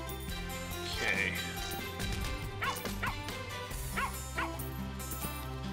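A dog in the farming video game Plantera gives short yips and whimpers in brief bursts over steady background game music, while a voice talks over it.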